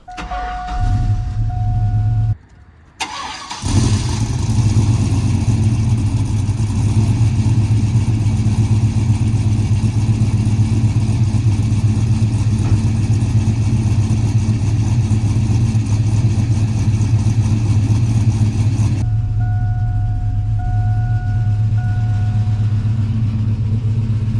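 A cammed 450-horsepower pickup truck engine cranks and fires up, then settles into a loud, steady, rumbling idle that carries on for a long stretch before ending abruptly.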